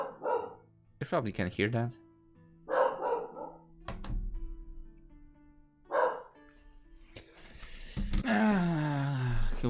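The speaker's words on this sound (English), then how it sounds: "There are dogs outside, so he heard them." Dogs bark outside in the video game ENIGMA, on Lauro's route during the fishing part, giving a few short barks mixed with people talking and a dull thunk.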